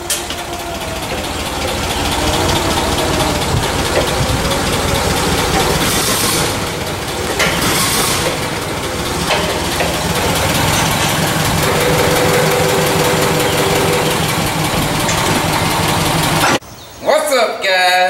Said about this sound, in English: We bought a 1967 Clark Forklift.